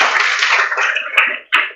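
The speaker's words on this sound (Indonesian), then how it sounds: "Silakan tepuk tangan." A class of students applauds in an Indonesian classroom, a dense burst of many hands clapping that fades and then ends with a few sharp group claps.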